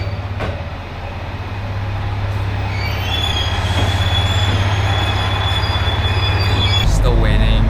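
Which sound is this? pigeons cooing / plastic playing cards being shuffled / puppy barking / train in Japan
train in Japan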